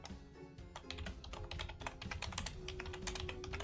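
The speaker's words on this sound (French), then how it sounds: "je tapais au hasard sur mon clavier pour trouver" Fingers type quickly on a computer keyboard, a dense run of sharp clicks and clacks in an irregular rhythm, close but fairly quiet.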